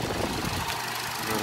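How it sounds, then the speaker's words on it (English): A 1982 Lakewood model 1200A electric fan runs with a steady whirring drone and a continuous buzzy rattle, close and fairly loud, with no talk. "And of course it rattles."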